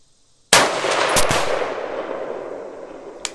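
A single loud rifle shot from a PSA 6.5 Creedmoor fired toward a 1000-yard target, a sharp crack with a long rolling tail that fades over several seconds, outdoors with no talk.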